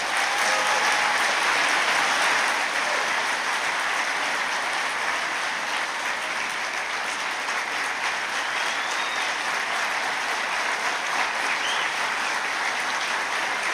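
Sustained audience applause at a fire fighters conference in Washington, steady, dense clapping from a large crowd that holds loud throughout, easing only slightly toward the end, with no speech over it.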